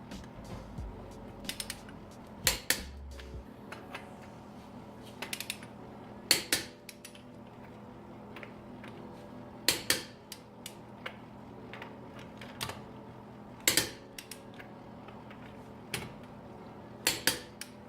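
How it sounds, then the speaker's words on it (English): A torque wrench snaps repeatedly as lug nuts on a car wheel are tightened to spec, each sharp click spaced a few seconds apart and sitting over a quiet, steady background hum. "And now we're just going to go through and click all the lug nuts, just making sure that everything was tightened up to spec."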